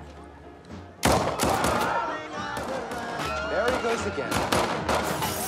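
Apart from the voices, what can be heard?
gunshots fired in a movie scene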